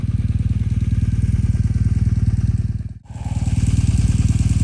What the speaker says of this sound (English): I'm letting the bike run because that way my grips stay warm.